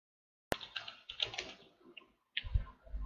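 Typing on a computer keyboard: a quick run of light, close key taps in two short bursts separated by a brief pause, with no talking.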